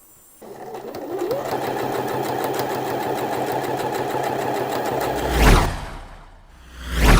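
A sewing machine stitches a shirt yoke to the back piece, its motor humming steadily and close for about five seconds, then stopping, followed by two brief swishing handling sounds.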